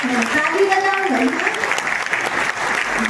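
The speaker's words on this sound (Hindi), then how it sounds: "वैसे तो ताली बजाओ भाई।" Audience clapping at a ceremony in Neemrana, steady applause filling the whole moment at moderate loudness, with a voice speaking over it throughout.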